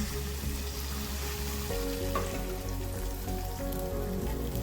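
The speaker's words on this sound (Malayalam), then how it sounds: "ആ മുട്ട ഇതിലേക്ക് ആഡ് ചെയ്ത് കൊടുക്കാം." Beaten eggs with spices fry in a pan, giving a steady, even sizzle that hisses close by, with occasional faint stirring scrapes and no voices.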